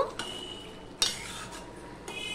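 Vegetables for a Bengali niramish dal-topped sabzi are stirred and mixed in a pan, with a few sharp scraping clinks of a utensil against the metal over a quiet background, no talk.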